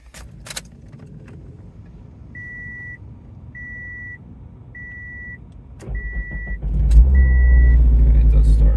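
A car with a check engine light is started: keys jangle and a repeated chime beeps five times, then the engine catches with a loud, close rumble that settles into a steady idle.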